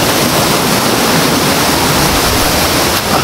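Cold creek water rushes steadily at the start of an uphill trail, a dense, continuous close-up wash of flowing stream noise with no voices.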